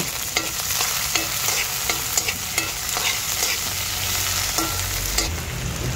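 Garlic and onion sizzle steadily in a hot pan, with a spatula clicking and scraping against the metal in a loose, repeated stirring rhythm throughout.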